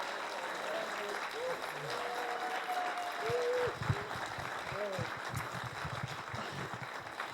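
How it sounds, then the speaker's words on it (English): Applause at a Les Brown motivational speaking event, steady broad clapping across the whole stretch, with voices and cheers mixed in and a brief louder swell partway through. "Give him a big round of applause."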